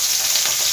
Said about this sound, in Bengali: তেলটা গরম হয়ে গেছে আমার, এবার মাছগুলো আমি ভেজে নেব